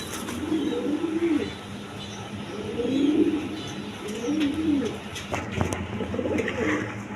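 Pair of pigeons, a Danish male and a Huma female, cooing in repeated soft low phrases, close by, with someone talking intermittently.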